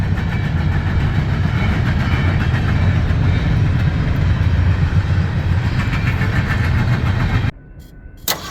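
A train rumbles past close by for over seven seconds, a loud continuous roar and clatter that abruptly drops away, leaving quiet with a brief knock.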